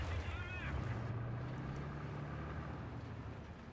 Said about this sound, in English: Some kind of T-34, it sounds like. At least a Russian vehicle with that engine.